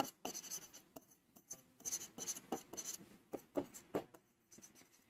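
Chalk or marker scratching out strokes on a board during an accounts class, a run of short, quick, uneven scrapes and taps close by, with no talking over it.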